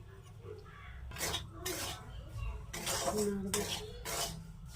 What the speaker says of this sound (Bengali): এবার সুজিটা হালকা করে ভেজে নেব